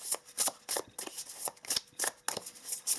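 Sacred Creators Oracle cards being shuffled by hand during a holiday card reading, a run of quick papery riffling bursts repeating every half second or so, close and clear with no talk.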